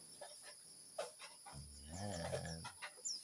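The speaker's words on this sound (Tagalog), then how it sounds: "Balik tayo dito sa mga manok." Farmyard chickens clucking near a house in Bicol, a run of short calls building into a louder, steadier cackle in the middle, fairly close, with no talk over it.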